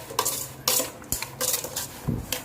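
Onions are stirred in a metal pan, with several quick scraping, clinking utensil strokes against the pan in an irregular rhythm, close and clear with no talk.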